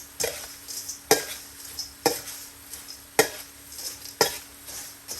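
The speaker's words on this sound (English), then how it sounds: "spoon and stir all of those seasonings into those crackers" A spoon stirs seasonings into crushed crackers for sausage stuffing, scraping around a pot in five or six sharp, evenly spaced strokes, each a bright clink and scrape over a faint steady hum.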